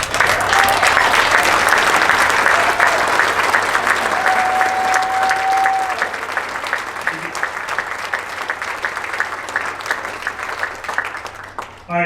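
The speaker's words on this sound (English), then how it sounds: "Give this gentleman a round of applause." Loud, sustained applause from a large crowd at a luncheon fills the whole stretch, easing slightly toward the end.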